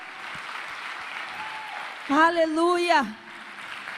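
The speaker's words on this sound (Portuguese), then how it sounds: "Você pode aplaudir o Senhor?" A church congregation applauds steadily throughout, a continuous patter of clapping under a man's loud exclamation.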